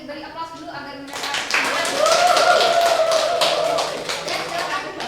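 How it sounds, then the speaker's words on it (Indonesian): Students in a micro-teaching Japanese language class break into a round of applause of many scattered hand claps that builds quickly and carries on for several seconds, with people talking over it. "Mungkin bisa diberi aplaus dulu agar mereka."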